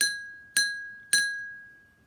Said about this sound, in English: I'm going to tap it with a spoon